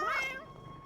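A man imitates a cat's meow with a single short, rising-then-falling nasal mew, close and clear, with no talking.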